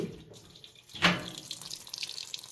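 Water rushing into a top-loading washing machine set to a cold, large load, a steady hiss with a brief louder splash surge near the start of the flow.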